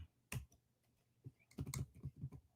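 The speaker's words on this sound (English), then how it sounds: "But I can't type anything for some reason." Close typing on a computer keyboard, with one sharp keystroke followed by a dense irregular flurry of clacks, loud and near with no voices.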